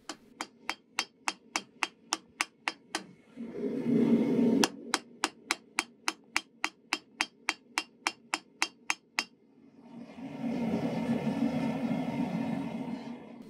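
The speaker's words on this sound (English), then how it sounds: "I position the tip of my blade over the edge of my anvil and hammer in a little hook" Rapid, evenly spaced metallic hammer blows ring out as a hook is forged into the tip of a recurve hunting knife blade on an anvil edge, in two bursts of about a dozen strikes separated by a roaring forge.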